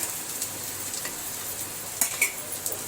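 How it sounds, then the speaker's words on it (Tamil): Sweet potato halwa being stirred with ghee-roasted almonds and cashews, a soft sizzle under light scraping and a few sharper utensil knocks near the end, close and alone. "போட்டு ஒரு 2 நிமிஷம் நல்லா அப்படி கிளறி விட்டுக்கலாம்."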